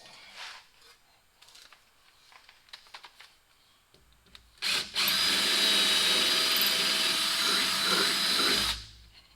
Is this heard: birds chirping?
no